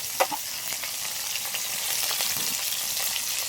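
Peeled prawns frying in a pan, a steady close sizzle with a few soft stirring scrapes near the start, no voices.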